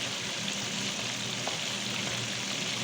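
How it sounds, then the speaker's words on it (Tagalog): Soup bubbling at a steady boil in a pot on the stove, a constant dense simmering hiss with a faint low rumble, close and alone, no voices over it. "Kumukulo-kulo na yun ano guys."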